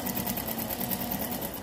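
A sewing machine stitches bias binding along the right side of the fabric, its rapid needle running as a continuous close whirring rattle with no pause.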